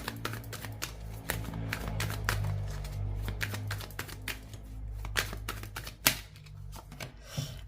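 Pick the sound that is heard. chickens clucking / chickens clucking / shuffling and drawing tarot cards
shuffling and drawing tarot cards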